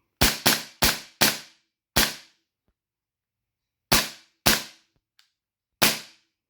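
Eight sharp, snappy shots from a Tokyo Marui FN Five-seveN airsoft pistol: a quick burst of five, a pause, then three more spaced out, with a faint click between.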